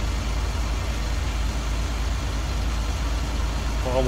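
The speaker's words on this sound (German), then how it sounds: "Der LKW lässt sich nicht gut lenken." A truck engine runs in Landwirtschafts-Simulator 19, a steady low mechanical drone that stays constant and fairly loud throughout without breaks.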